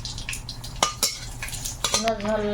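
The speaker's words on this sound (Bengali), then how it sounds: "তেলে দুটো শুকনো লঙ্কা দেবো" Two dried red chillies go into hot oil in a home kitchen, with a few clinks of a utensil against the pan, then a light sizzle rising near the end.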